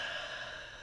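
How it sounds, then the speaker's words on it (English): A person inhales deeply and slowly during a guided meditation, a soft, breathy rush of air up close that lasts under a second, with no talking over it. "Breathing in and breathing out."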